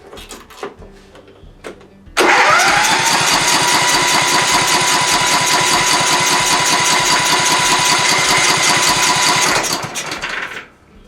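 An ailing MTD Gold lawn mower's engine cranked on full choke. A few clunks come first, then the small engine catches and runs at a loud, steady, rapid chug for about seven seconds before dying away.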